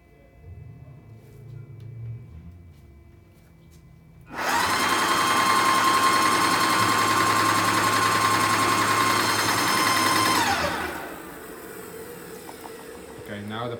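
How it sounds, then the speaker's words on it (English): Graco GX21 airless paint sprayer pump priming with paint, a loud steady motor drone with rapid mechanical chatter that starts abruptly, runs for several seconds alone, then cuts off into quieter background. "now we're going to prime the machine with paint to get it ready to spray"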